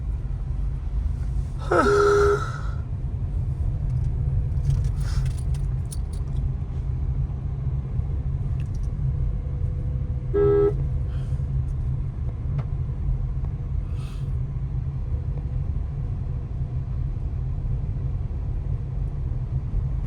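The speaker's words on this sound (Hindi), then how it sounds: "क्लच दबा के सेकंड गियर करो फटाफट, छोड़ो क्लच, हाँ जाने दो, स्पीड बढ़ाओ" Inside a learner car during a driving lesson, a steady low engine rumble and road noise hold throughout as the car pulls away in second gear, broken by brief sharper sounds.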